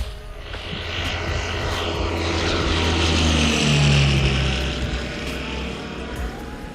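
A small propeller airplane makes a low pass overhead, its engine drone and buzzing propeller swelling to a loud peak midway and then easing off as it moves away, with no voices.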